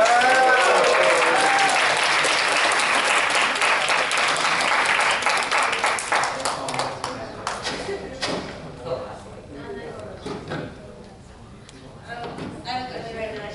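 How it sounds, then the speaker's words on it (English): A group claps in a dense round of applause that fades after about six seconds into scattered individual claps, thumps and movement, with voices murmuring in the room. "Let's give them a round of applause."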